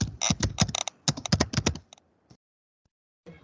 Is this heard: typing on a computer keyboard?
yes